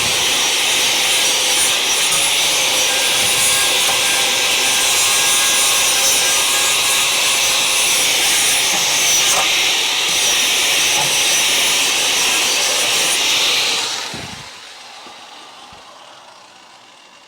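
A flap disc grinding weld seams on a Dodge Charger body under restoration: a loud, continuous, close abrasive roar with steady rasping texture for about fourteen seconds, then spinning down into a fading hum.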